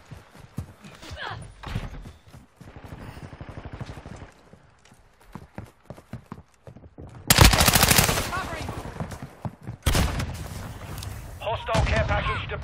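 Rapid bursts of automatic gunfire from a first-person shooter game ring out in loud clusters, especially in the second half, with game announcer voices and a player talking between the volleys.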